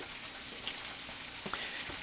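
Chopped potatoes and onions fry in a pan after bacon, giving a steady close sizzle with a few brief pops and clinks and no talk.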